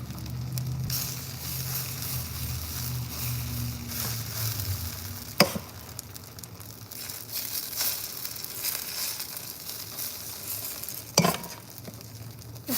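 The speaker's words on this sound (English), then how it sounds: "we're almost done with frying our potato pancakes" Potato pancakes (Reibekuchen) frying in a pan, a steady sizzle with stirring and scraping throughout and two sharp clinks of utensils on the pan, no talking.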